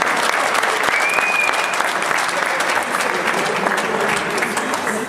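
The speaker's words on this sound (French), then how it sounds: "Merci d'applaudir Stéphane Dumont du club de Sibiril." A crowd applauds steadily for a blackball pool player at a Brittany regional tournament final, a dense continuous wash of clapping close and loud throughout, with no voices standing out.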